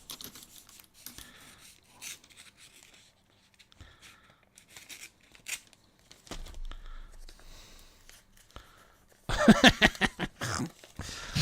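Packing tape being pulled and torn while unpacking books: scattered quiet rubbing and rasping give way to a louder, close burst of ripping near the end.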